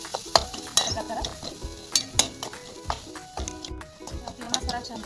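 Onion and spice masala with turmeric, coriander powder and salt being stirred in a pan, the spoon clinking and scraping in an uneven rhythm over a low sizzle.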